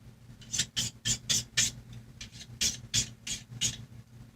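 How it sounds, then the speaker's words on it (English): Knife blade stroked across a sharpening stone in a steady series of about a dozen short, rasping scrapes, close and fairly quiet, with no talking. "Let's grab ye olde sharpening stone and"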